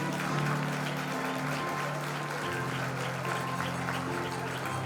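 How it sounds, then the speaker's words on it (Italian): Party crowd at a spring festival applauding a welcome, a dense steady wash of clapping with low musical hum underneath, no clear voice. "Facciamoci un grande applauso"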